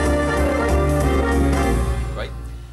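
A Lowrey E Series organ plays the introduction of a 'Just for You' expansion pack style without drum variation. Sustained, full chords are heard over a bass line, then fade down at the end.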